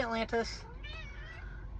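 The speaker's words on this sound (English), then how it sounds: "There's my cat." A pet cat meows twice in quick succession close by, outdoors on a hot day, followed by a fainter drawn-out meow while someone talks over the background hum.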